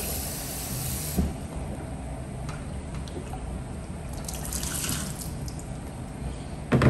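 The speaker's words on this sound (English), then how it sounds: "We're gonna fill it with water." Water running steadily into the tank of a warm/cool mist humidifier, a continuous hissing pour with a few clunks of handling near the start and end.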